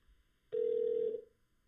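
A single phone ring tone on an unanswered call, one steady electronic beep lasting under a second, clear and alone against near silence.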